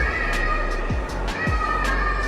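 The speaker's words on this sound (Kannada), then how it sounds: "ಹಂಗೈತೆ ನೋಡಿ ಬೆಕ್ಕು ಇದು" A cat meows a few times in short sliding cries over a loud, constant background hum at a vintage car display in Mysore.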